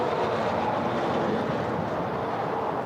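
A jet airliner rolls for takeoff on runway 25 right at LAX: a steady, broad, heavy roar from a moderate distance, sustained with no break.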